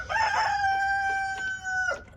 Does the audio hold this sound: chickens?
yes